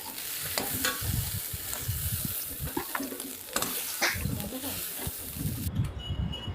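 Soybean chunks fry in a pan, sizzling continuously while a utensil stirs and scrapes them in irregular bursts, close and moderately loud.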